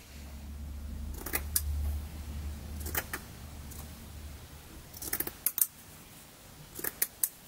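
A recreation of Viking-period scissors from Kvalsta in Vastmanland, Sweden, with case-hardened blades, cutting period-style cloth: a few crisp metallic snips spaced out over a low hum, ending in a quicker cluster of sharp close clicks.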